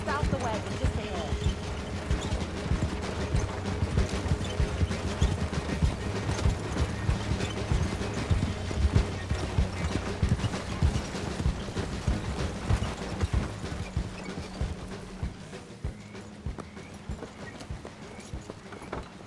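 Horse-drawn wagon hooves clip-clopping in Red Dead Online, a steady rhythmic clatter running under background music and a voice talking, fading slightly toward the end.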